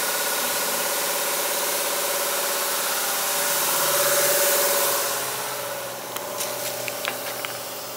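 An Oldsmobile Cutlass engine runs with a steady, droning hum and broad rushing noise that swells slightly midway. It eases off toward the end, where a few light clicks appear, and no one speaks.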